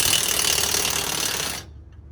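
An impact tool rattles steadily and loudly, tightening bolts on an air dryer bracket, then cuts off abruptly near the end, leaving quiet.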